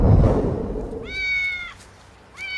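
Cats meow twice, each a short rising-and-falling cry, the first after a muffled thump and rustle, the second starting near the end, close and fairly clear with no talk.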